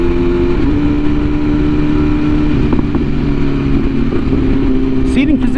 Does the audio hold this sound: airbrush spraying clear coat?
no